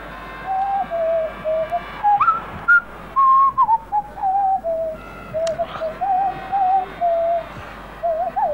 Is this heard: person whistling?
yes